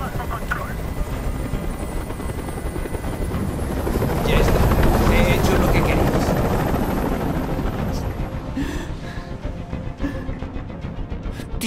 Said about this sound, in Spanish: ¡No aguanto ese ruido! ¡Dile a ese helicóptero que se vaya de aquí!